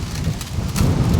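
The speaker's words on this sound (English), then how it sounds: "now it's starting to really rain" Heavy rain pouring down outdoors near fence pens, a dense steady roar that thickens toward the end, with some low rumbling and no talking.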